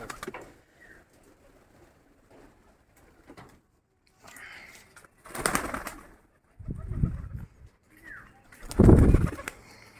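Pigeons coo in short, separate bursts at close range while waiting to be fed, with quiet gaps between calls and a few soft rustles or wing sounds.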